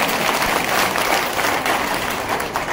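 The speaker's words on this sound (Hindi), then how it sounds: "तालियां थोड़ी कम बज रही क्योंकि किसी को याद भी नहीं है।" A crowd gives steady, dense applause during a political speech at the inauguration of a public relations office in Guna, India. The clapping is continuous and fairly loud, with no voices over it.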